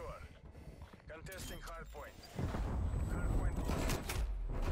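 A PPSh-41 submachine gun in Call of Duty Cold War fires a sustained, dense, close burst that kicks in halfway through, following mechanical clatter and a voice talking.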